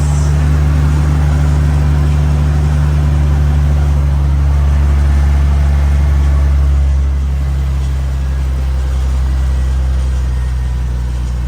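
A Nissan Skyline R34's engine idles steadily just after starting, a loud, constant low rumble with a heavy bass hum that holds evenly throughout, with no voices over it.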